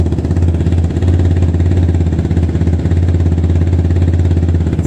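A motorcycle engine idles steadily after a cold start, a loud, close, continuous low rumble with a fast even pulse and no talk over it.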